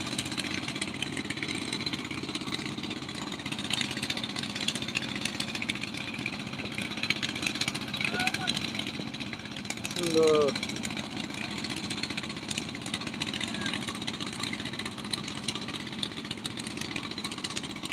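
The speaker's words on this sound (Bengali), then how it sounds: "বিশাল বিশাল ছিপি নৌকা অর্থাৎ ইঞ্জিন চালিত নৌকাগুলো এগুলো নদীর ওই পার থেকে এই পাশে আসে" Engine-powered boats on the Jamuna river near Nishchintapur, a steady mid-pitched motor drone running continuously under a man's ongoing speech, with a brief brighter sound in the middle.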